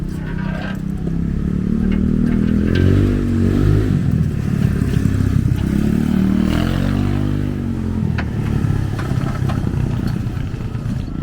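A small motorbike engine, similar to a Honda Ruckus or Grom, runs nearby with a low, buzzy idle that rises and falls in a couple of gentle revs, alongside light clattering and scraping.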